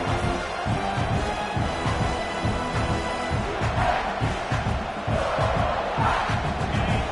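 A large, loud stadium crowd at a football game roars and cheers continuously, a dense wall of voices with swelling peaks near the end.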